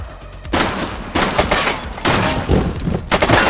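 A suspect opens fire in the police game The Precinct, with a burst of loud, sharp gunshots that repeat in rapid succession and sound close and punchy.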